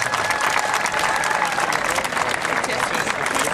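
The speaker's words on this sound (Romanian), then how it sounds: "Vă rog, aplaudați acest moment." Audience applauding at a high school graduation ceremony in Romania, a dense, steady wash of clapping from a large crowd that fills the whole stretch without pause.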